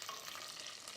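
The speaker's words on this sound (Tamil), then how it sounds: "கடுகு இது மாதிரி தாளிக்கும் போது கம்மியா சிம்ல வச்சுக்கலாம்" Mustard seeds tempering in hot oil on low heat for a fish curry give a faint, continuous sizzle with soft crackling and no voices.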